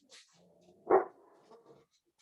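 A dog at home gives a single sharp bark toward someone at the door, with a few softer muffled noises before and after in a quiet room.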